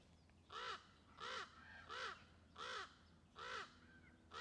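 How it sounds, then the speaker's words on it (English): Crows caw in a steady series of six harsh calls, evenly spaced about every seventy milliseconds apart—roughly one every 0.7 seconds—clear and moderately close against a quiet outdoor background. "We hear you, ravens. We hear you, crows."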